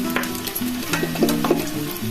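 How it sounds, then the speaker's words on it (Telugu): Bottle gourd pieces fry in hot oil, a close, steady sizzle broken by soft scraping and clinks of a utensil stirring and turning them in the pan. "ఇదిగోండి నూనె బాగా కాగింది. కాగిన తర్వాత ఇలా ముక్కలన్నీ ఇందులో వేసుకొని ఇలా దూరగా వేయించుకోవాలన్నమాట."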